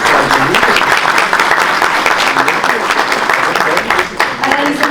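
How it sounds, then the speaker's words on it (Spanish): Sustained, loud applause from a forum audience welcoming a communications network director at a freedom-of-expression event in Mexico, dense and steady clapping throughout. "Un aplauso, por favor."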